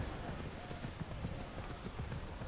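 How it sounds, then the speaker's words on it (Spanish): Galloping horse hooves in the video game Immortals Fenyx Rising, with a steady clip-clop beat under a voice talking over the gameplay. "Bueno, ahora sí voy con mi caballo."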